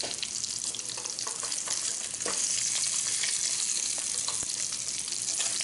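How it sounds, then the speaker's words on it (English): Masala for a mackerel curry with coconut milk frying in a pan, a constant loud sizzle with scattered crackles and stirring scrapes, no voices. "I'm going to actually start cooking the masala"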